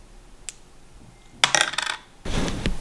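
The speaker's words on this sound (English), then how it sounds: "Let's roll my dice." Dice clatter and tumble across a hard surface in two bursts, a short rattle followed by a longer rolling spill, loud and close in a quiet room.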